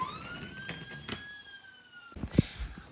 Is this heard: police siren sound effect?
yes